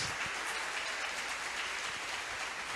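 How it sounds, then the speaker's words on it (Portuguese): Dense, steady applause from a church congregation, many hands clapping continuously at an even level for the whole stretch. "aplauda ao Senhor bem forte"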